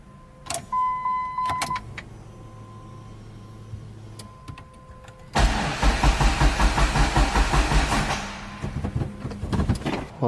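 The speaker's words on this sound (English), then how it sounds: "Now all I'm gonna do is crank it just a couple times." An engine with a rebuilt Precision turbo cranks over a few times in short bursts with the clutch and gas pedal held down, then a loud, dense, rumbling run fills the second half close by.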